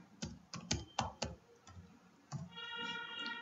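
Computer keyboard keys tapped to type a search into Google, a quick run of sharp close clicks followed by a few sparser taps, quiet with no speech.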